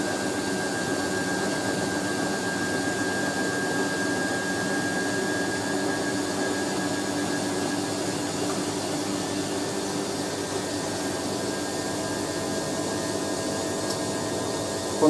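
A Hoover A3060 Electronic 1100 washing machine on its 1100 rpm spin, a steady loud whirring roar with a faint high motor whine, unbroken and close for the whole stretch.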